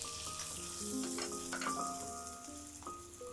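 Red chilies drop into hot oil in a wok, a soft, fairly quiet sizzle carrying faint tonal background notes, with no talking.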